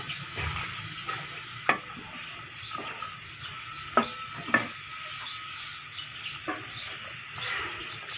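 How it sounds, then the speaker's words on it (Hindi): Green chickpeas fry in ghee in a pan with a soft steady sizzle, broken by several sharp scrapes and clinks as a spoon stirs them, each stroke a short distinct knock, close and fairly quiet. "पहले एक दफ़ा थोड़ा सा इसी के अंदर इसको फ्राई कर लें"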